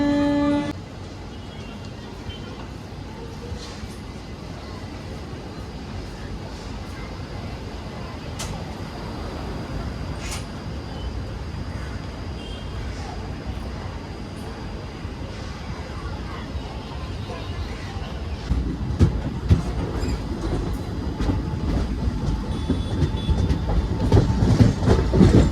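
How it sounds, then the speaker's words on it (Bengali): Tista Torsa Express train pulling out and running on rails, a steady low rumble with faint wheel clatter that swells louder toward the end, with voices talking over it. "ওখান থেকে আমাদের ট্রেন ছেড়ে দিচ্ছে।"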